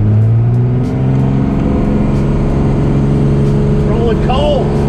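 A diesel pickup truck with a 24V Cummins engine revs hard with a steady, loud low drone while its studded tires spin, joined by a brief rising whine near the end as people talk over it.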